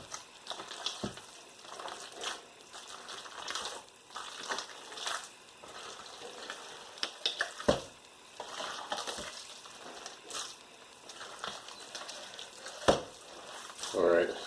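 Ground meat for a soul food meatloaf being squished and mixed by hand in a large pile, giving soft wet squelching and kneading noises with a few sharper slaps, close up and fairly quiet.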